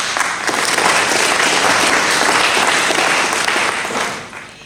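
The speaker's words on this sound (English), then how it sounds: "Let's all give ourselves a hand of applause" An audience at the SSVP All African Assembly claps in loud, continuous applause, a thick even wash of hands that holds steady and then tapers off near the end.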